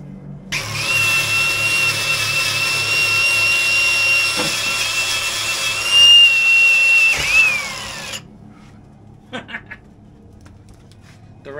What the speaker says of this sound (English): So I'm going to wire wheel that and clean it up now.